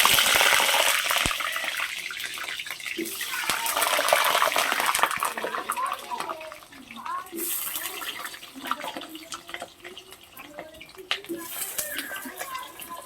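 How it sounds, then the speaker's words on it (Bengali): Potatoes fry in mustard oil in a wok with a continuous crackling sizzle that swells and eases as they are stirred, heard up close. "আলুগুলোকে লাল লাল করে ভেজে নেব"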